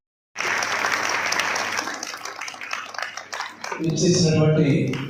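A crowd in a collectorate auditorium applauds loudly for award-winning children at a women and child welfare event, a dense wash of clapping that fades, then more cheering and clapping rise near the end.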